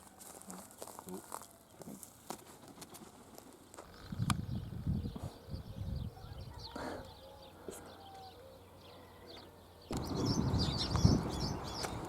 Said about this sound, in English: So here we have a Marsh Harrier.